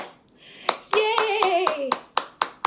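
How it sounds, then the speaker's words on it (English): Children clap sharp, evenly spaced beats along with a sung nursery tune, the claps punctuating the melody and continuing after it. "If you're happy and you know it, clap your hands."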